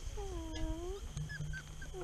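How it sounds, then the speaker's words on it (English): A small puppy whimpers softly in a quiet indoor room, with one drawn-out whine followed by several brief faint squeaks. "Hey, little puppy."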